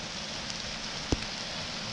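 Rain falls outdoors as a steady, even hiss across a short stretch, broken by one sharp tap or drip near the middle.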